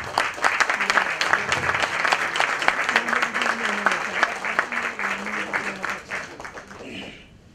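An audience at a stage event claps loudly and steadily for several seconds, with voices mixed in, before the applause fades out at the end.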